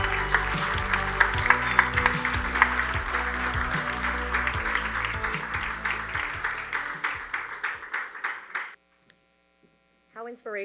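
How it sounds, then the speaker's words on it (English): Audience applause at the South Bronx United annual benefit: dense, steady clapping from a large crowd over a low hum and soft background music, thinning into scattered claps before cutting off near the end, with a brief burst of noise after. "Another round of applause for Ronnie Delgado"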